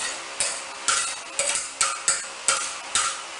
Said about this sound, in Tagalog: So, i-mix na natin yung ating carrots.